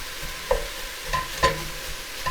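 Salted onions cooking slowly in a pot, with a soft low sizzle broken by a few distinct stirring scrapes spaced about a second apart.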